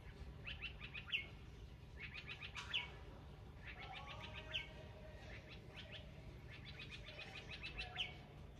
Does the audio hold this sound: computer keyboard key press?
no